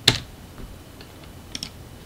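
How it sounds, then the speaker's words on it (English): A few sharp keystrokes on a computer keyboard as a value is typed in, one loud close click at the start followed by softer, sparse taps and a quick pair near the end. "then type in 90 degrees"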